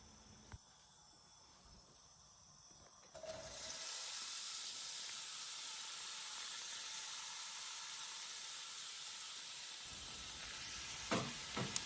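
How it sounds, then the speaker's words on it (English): Oil gently warming in a pan before chopped onions are added, then a sudden loud, steady sizzle that holds for several seconds and fades near the end, with a few faint clinks. "You're going to add that into the pan and let it warm through gently before you add in all of the chopped onions"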